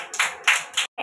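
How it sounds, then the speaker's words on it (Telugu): Anganwadi children clap in three short, ragged bursts, fairly close, each a quick scatter of small hands, followed by a brief fourth flurry after a pause. "క్లాప్స్ కొట్టండి"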